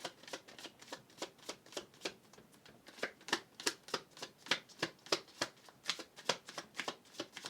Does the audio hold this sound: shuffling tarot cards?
yes